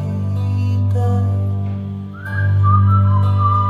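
A person whistles a short, thin melodic phrase that wavers and breaks off, sounding over a loud sustained low drone.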